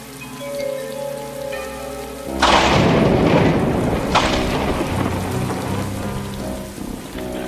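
A cartoon thunderstorm in Tintin breaks with a heavy burst of rain and rolling thunder after a quieter opening, then settles into a loud, continuous downpour with a second crack of thunder.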